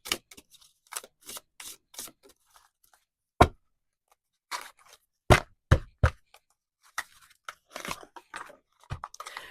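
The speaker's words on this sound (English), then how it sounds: "I also love shuffling this deck." A tarot card deck being shuffled by hand gives quiet, irregular bursts of crisp papery slaps and riffles, with short silent gaps between them and no talking.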